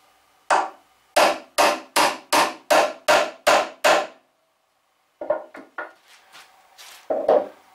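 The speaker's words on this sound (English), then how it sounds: "I've got a nail set to drive the head of the nail below the surface." A hammer strikes a nail set to sink nail heads into pallet wood for a bench: nine sharp, evenly spaced, loud blows, a pause, then a few quicker, uneven taps.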